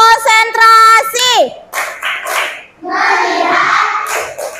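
Schoolchildren in a classroom chant together in a sing-song voice and clap in rhythm for a concentration routine, the voices loud and close with claps mixed into the chant.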